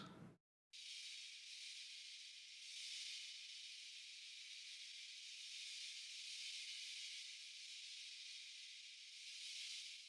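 A continuous airy, bright metallic hiss of a cymbal sizzle, pitch-shifted down with delay, plays after a brief gap, steady with gentle swells and a smeared, echoing wash.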